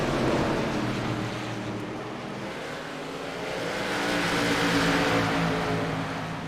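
Race cars lapping an oval at Southern National Motorsports Park during the IROC 150, a broad, steady roar of engines that swells and eases as the field passes, with no voices.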